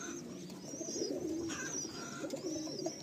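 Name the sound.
Madrasi pigeons cooing in loft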